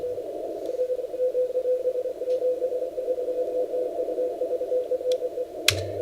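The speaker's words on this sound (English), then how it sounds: "the 9 Alpha 3 Kilo Golf is 2 S units louder in Maine." Amateur radio station 9A3KG comes in on the 15 meter band at sunrise in Maine as a steady narrow tone keyed in Morse code over hiss, with a few faint clicks and a crackle near the end.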